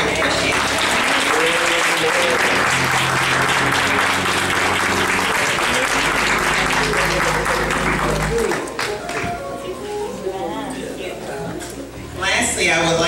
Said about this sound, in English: if you all would stand and we can give them a hand clap